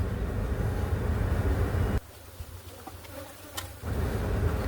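A dense, steady buzzing of many bees fills the air, dipping briefly quieter in the middle before the loud swarm drone returns.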